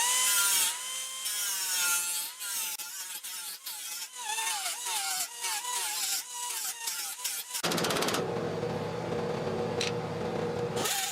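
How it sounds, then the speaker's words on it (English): A 2-inch sanding disc grinds across the edge of a metal stone guard on a Brooklyn Pony, a wavering whine in short strokes, then a steadier, harsher rasp near the end, no voices. "I took the sanding disc, 2-inch, and I went across the edge got it to the shape that I wanted."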